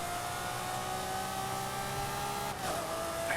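Lamborghini Murcielago in a racing video game, a steady sustained engine whine holding a constant pitch, with a brief dip and shift near the end.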